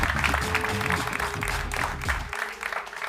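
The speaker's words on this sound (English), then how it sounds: "let's just round of applause for Charles for making it third place" An audience at a TuksVivor final tribal council applauds Charles for third place, a dense, steady wash of clapping that fades toward the end.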